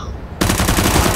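Counter-Strike gunfire on the Dust2 map: a sudden loud burst of automatic rifle fire that starts sharply and holds as a dense rattle of rapid shots for under a second.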